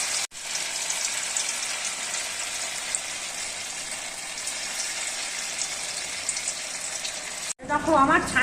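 Small chhena (cottage cheese) fritters fry in hot oil with a steady hissing sizzle for most of the stretch, which cuts off abruptly near the end before a brief clatter.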